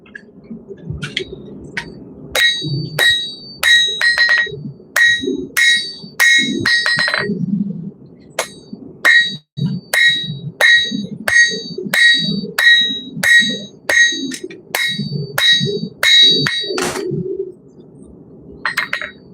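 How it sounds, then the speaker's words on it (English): A big hammer rings against hot metal on an anvil in a smithing shop, loud sharp strikes in quick rhythmic runs, with bright metallic overtones and pauses between bursts. "Big hammer."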